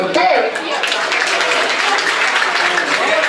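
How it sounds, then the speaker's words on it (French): Spectators at a charity football match applaud the players as they are introduced, a dense steady patter of clapping with crowd murmur mixed in throughout. "On peut les applaudir s'il vous plaît."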